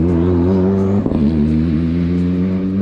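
Subaru rally car engine droning close by with a steady harmonic hum and a brief surge partway through, loud and without voices.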